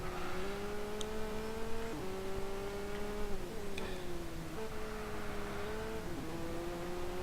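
Fully tuned Nissan 370Z race car in a racing video game holds a steady engine drone that rises in pitch through each gear and drops sharply at every shift, about five upshifts.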